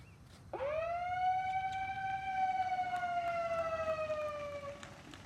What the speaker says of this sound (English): When you hear the siren, that's going to be the gun, okay?